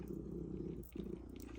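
A cat purring steadily and close by, a continuous low rumble with a brief dip partway through, heard indoors during a crochet provisional cast-on demonstration.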